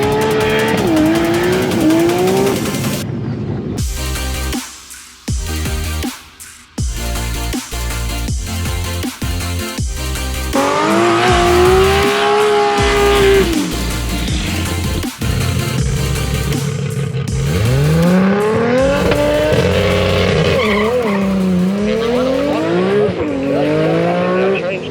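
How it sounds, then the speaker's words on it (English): Cars doing burnouts at a race meet's burnout pad, engines screaming loud and close with long squealing tyres and revving, nearly continuous for about twenty-five seconds. "see if we can't get some good burnouts"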